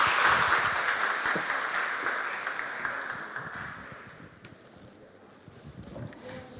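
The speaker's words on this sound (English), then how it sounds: "Please give another round of applause to welcome Ms." A seminar audience at a fashion summit in Hong Kong claps to welcome a speaker, moderate applause that fades gradually before a brief renewed patter near the end.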